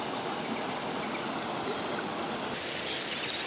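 A river waterfall pours over rocks in a continuous, even roar of rushing water, loud and unbroken throughout with no voices.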